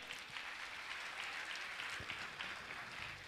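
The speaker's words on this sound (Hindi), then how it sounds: "मैं चाहूंगा आप सम्मान में तालियां" Steady applause from a crowd at a Jain monk's religious discourse, a dense wash of clapping that stays even throughout with no voices on top.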